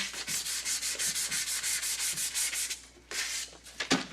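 Sandpaper rubs off a glossy finish on a piece of home decor in quick rhythmic back-and-forth strokes, about a dozen even passes, a short pause, then a few more strokes and a knock.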